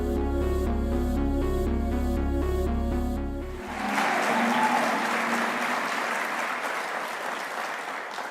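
Sustained audience applause at the 2024 Tasmania Australian of the Year Awards ceremony, bursting in loudly after a musical sting ends and continuing as a dense, steady wash of many hands clapping.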